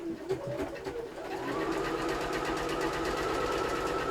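Sewing machine running steadily as it stitches a seam on a fabric cutlery holder, with a few uneven starts before settling into a continuous, close, even whir; no talking.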